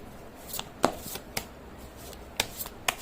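Tarot cards being shuffled by hand, a series of sharp riffling snaps and soft slides spaced irregularly, close and fairly quiet with no talk.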